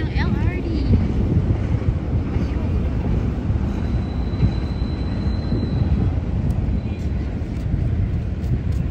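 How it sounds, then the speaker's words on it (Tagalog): An LRT light rail train rumbles past in Manila, a loud, continuous low roar heard outdoors with heavy wind buffeting and a faint high whine midway. "ayun yung LRT."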